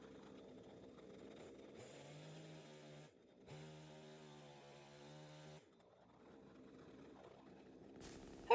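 A chainsaw near a tree stump being cut into bowl blanks runs in two steady, fairly quiet bursts of droning engine tone, with short pauses and low outdoor rustle in between.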